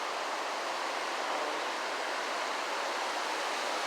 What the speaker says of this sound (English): this is just water running through a creek or something.